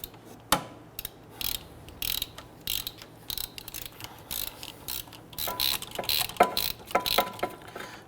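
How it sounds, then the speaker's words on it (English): A ratchet turns a 14mm shallow socket on a short extension, loosening rusty bolts behind the front wheel bearing and hub assembly of a 2011-2015 Kia Sorento. It makes quick, intermittent bursts of close mechanical clicking with short pauses between them. "Now what I'm going to use is a 14mm shallow socket and a short extension with my ratchet"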